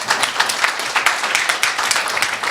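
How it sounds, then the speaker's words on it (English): Audience applause at a live concert in Toronto in 2018, a brief burst of dense clapping from a crowd, close and lively with individual claps audible in the mix. "So please give them a round of applause."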